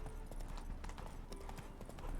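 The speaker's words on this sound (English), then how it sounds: "Spooking my horse." Roach, a horse in The Witcher 3, gallops with quick, rhythmic clip-clopping hoofbeats, quiet and steady, with no distinct whinny standing out.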